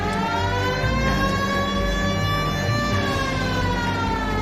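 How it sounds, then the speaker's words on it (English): A police car siren from the L.A. Noire video game wails loud and steady with a slowly shifting pitch, under a low engine rumble, holding without a break. "Hit the siren."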